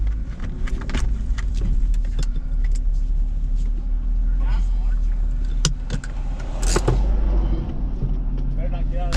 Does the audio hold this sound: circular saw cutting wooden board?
no